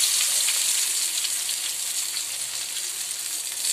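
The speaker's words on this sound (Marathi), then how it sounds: "आणि माझं तेल गरम झालंय, असं एक घुसलून तेलामध्ये सोडणार आहे।" Eggplant slices lightly coated in semolina sizzle steadily in hot oil, a continuous close, bright crackle with no talking.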